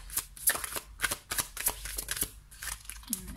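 Tarot cards are handled, shuffled and drawn by hand, giving a close series of soft riffling swishes and papery flicks in an uneven rhythm.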